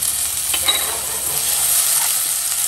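Steady, loud sizzling of onions and ginger-garlic paste frying in a pan, with faint stirring scrapes over a constant hiss.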